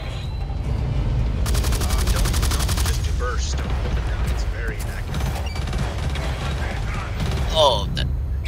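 Rapid SMG gunfire in Blacklight: Tango Down, a dense rattling burst of shots in the first half followed by scattered single pops, mechanical clicks and game effects over a steady low rumble.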